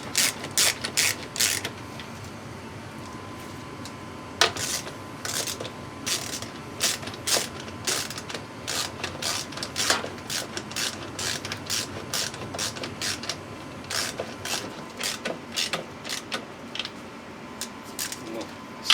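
A hand ratchet snugs down the bolts on a Hayward Super Pump during a seal replacement, with close, crisp bursts of rapid clicking that repeat in short runs, separated by brief pauses, throughout.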